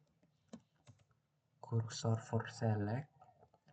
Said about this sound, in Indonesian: Jadi sini saya ketikkan kursor for select